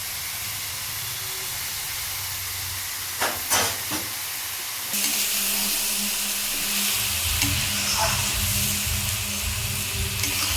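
Rice for basanti pulao fries and is stirred in a pan, a continuous close hiss that grows louder and busier with sizzling and scraping about halfway through.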